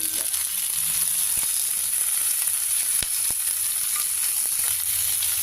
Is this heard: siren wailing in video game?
no